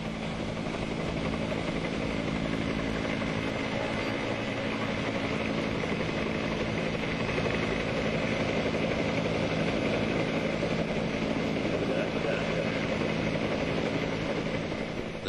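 A steady, droning engine roar with a rotor-like hum holds at constant loudness throughout, heard from inside the cabin of a helicopter climbing to 12,000 feet over Cornwall for a skydiving jump.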